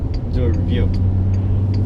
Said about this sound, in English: while we're letting the engine warm up